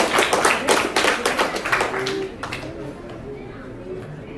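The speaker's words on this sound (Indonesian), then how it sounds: "Intan, tepuk tangan dulu untuk kelompoknya Intan." A group of students clapping hands in a classroom session, with a burst of quick overlapping claps that fades after about two seconds into murmuring voices and light room noise.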